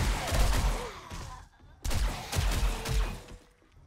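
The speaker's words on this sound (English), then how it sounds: "You can pretty much delete zombies at will with this gun." A powerful shotgun fires repeatedly at zombies in the survival game 7 Days to Die, several loud booming blasts in quick bursts with a short pause between volleys, with brief talking underneath.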